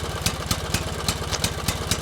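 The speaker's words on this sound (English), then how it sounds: "There's a sound immediately behind you, like a truck engine starting" A truck engine running close by, a loud rough low chugging with regular pulsing beats about four per second, steady throughout with no voices.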